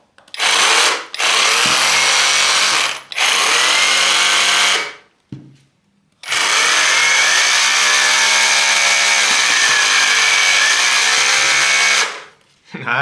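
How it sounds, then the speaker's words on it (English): A Parkside PKHAP 20V cordless hammer drill runs in chiseling mode with rotation stop, hammering loudly and close in three long, sustained bursts separated by short silences, the last running longest. "Next we have chiseling activated impact mechanism with a rotation"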